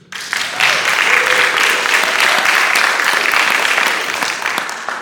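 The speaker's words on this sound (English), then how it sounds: "I want to give them a round of applause," An audience at a Sunday Assembly gathering breaks into sustained applause for the organizers, a dense, loud wash of clapping that swells quickly and holds for several seconds before tapering slightly.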